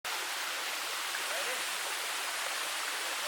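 A creek flowing over smoothed lava rock on the Ka'au Crater hike produces a steady, bright hiss of running water, continuous and fairly close, with no voices.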